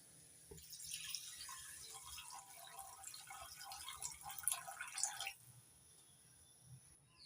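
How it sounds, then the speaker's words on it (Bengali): Water is poured into a pan of paneer curry, giving a splashing, trickling pour for about five seconds that then stops, fairly quiet and close. "এবার দিয়ে দিচ্ছি পরিমাণ মতো জল।"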